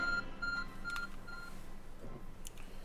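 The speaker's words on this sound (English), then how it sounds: "Your arc phone is beeping." Short electronic beeps from the arc phone in the video game Pokémon Legends: Arceus, a few clean tones in a quick repeating pattern, then brief chimes over a faint background.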